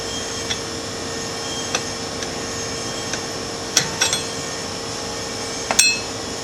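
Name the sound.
removing factory clutch with tools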